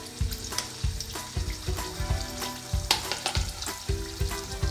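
Fish frying in hot oil in a home kitchen: a steady loud sizzle with repeated low thumps and scraping from turning the pieces, close and continuous throughout with no talking.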